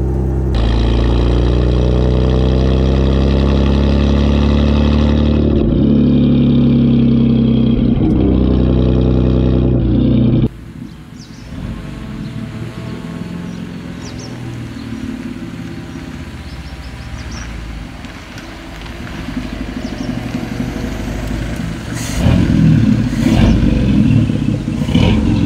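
A 1930 Bentley 6.5 litre Speed Six engine drives past loud and close, its deep exhaust rising and falling through gear changes for ten seconds, then a steadier rumbling run with clattering mechanical noise continuing to the end.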